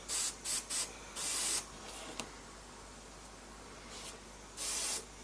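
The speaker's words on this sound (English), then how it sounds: "I'm not spraying anything heavy" Paint sprayed from an airbrush onto a Tamiya 1/35 M4A3E8 Sherman tank model, heard as several short hissing bursts followed by longer steady sprays, close and fairly loud.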